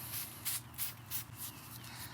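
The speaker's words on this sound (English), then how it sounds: "done spraying down this Espalier apple and painting it with a whitewash" Whitewash sprays onto an espalier apple tree in an organic garden in quick rhythmic bursts, about seven short hissing puffs over a faint steady background, close and fairly quiet.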